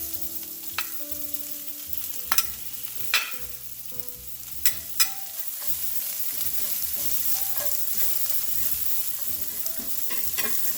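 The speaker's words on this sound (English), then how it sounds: "this avocado oil in the pan. And in goes our veggies. I'm going to start with the onions." Onions frying in avocado oil in a pan for a chicken fajita bowl make a continuous close sizzle, with scattered utensil clicks and scrapes as they are stirred around.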